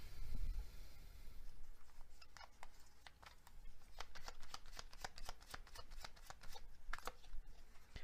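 Tarot cards riffled and shuffled by hand, a soft papery flutter of quick snapping flicks that grows denser toward the end, close and fairly quiet with no talking.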